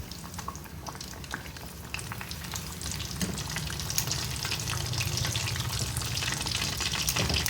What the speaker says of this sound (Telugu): ఈ ఆయిల్ బబుల్స్ అన్నీ పోయేంత వరకు మనం చేప ముక్కలను వేయించుకోవాలండి.